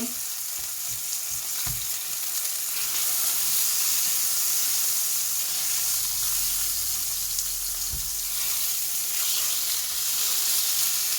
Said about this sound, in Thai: ย่างสเต็กมันหอมๆก่อน ใส่น้ำมันหน่อยๆพี่น้องจ๊ะ